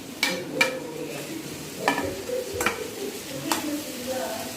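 Onion and onion leaves sautéing in a pan for homemade paneer fried rice, a steady low sizzle broken by several sharp scrapes of a spoon stirring, close and moderately loud, no talking.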